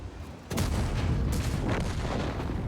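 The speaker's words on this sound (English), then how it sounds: "I forgot about the artillery." Artillery fire in a tank video game, a heavy boom opening into a sustained, dense rumble of distant barrage that carries on loudly to the end with no talk.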